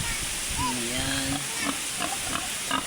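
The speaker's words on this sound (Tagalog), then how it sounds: "Yung mga biik namin dulo, yung baboy namin, inahing baboy namin." Pigs, a sow with her piglets, grunt and squeal close by in a short series of calls, with a sustained whine followed by quicker snorts over background noise, and a voice is heard talking nearby.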